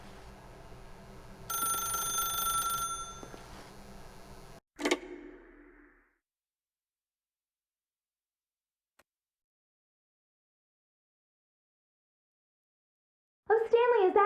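A telephone rings in The Stanley Parable, a steady ringing burst for a few seconds amid game ambience, followed by a sharp click, near silence, and a loud burst at the end.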